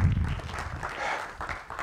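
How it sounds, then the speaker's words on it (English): A church congregation claps together during a sermon, giving a steady, moderately loud patter of hands that lasts the whole moment, with some low murmur underneath. "You can give him a hand clap."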